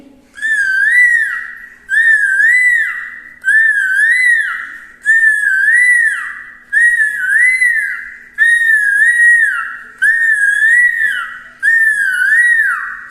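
A child imitates a koel's call with the voice, repeating a loud, clear whistled phrase about eight times in a steady rhythm, each rising and falling note sequence separated by short pauses, performed at a government school arts festival.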